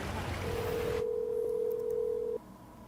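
An outgoing telephone call gives a single steady ringback tone that holds for about two seconds, then cuts off against a faint, hissy line.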